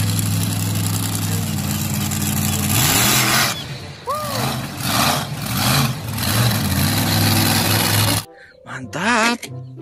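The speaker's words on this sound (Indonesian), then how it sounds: "Mobil monster." A monster truck engine rumbles and revs in loud surges, with a few squeaky chirps near the end and a brief silence before the noise returns.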